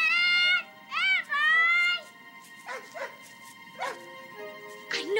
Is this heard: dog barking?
yes